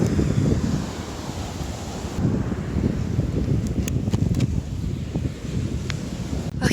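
Ocean waves wash steadily on a beach while an outdoor painter works, heavy wind buffets the microphone throughout, and a few faint clicks sound near the middle.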